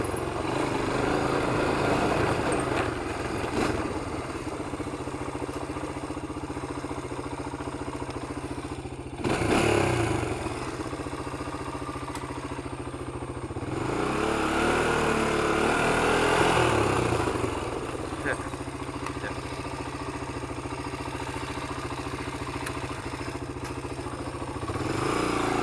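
A 1993 Honda 300EX ATV engine runs loud and close, a continuous idle rattle with revs swelling around the middle and a brief burst earlier, with no voices.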